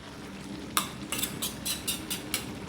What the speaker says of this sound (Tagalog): Kaya kailangan nating haluin yan para ma-mix ito lalo